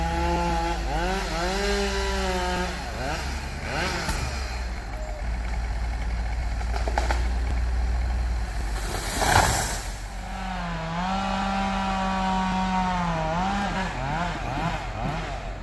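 Chainsaw cutting through a tall tree while clearing pasture: a loud, close engine drone revving up and down in waves, broken by a sharp burst near the middle, then a sustained rev.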